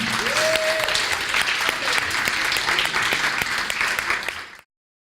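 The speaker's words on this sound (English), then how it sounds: "Let's give them another round of applause." Audience applause for a group of co-authors at a holiday closing ceremony, a dense, steady wash of clapping that fills the room for over four seconds before stopping abruptly.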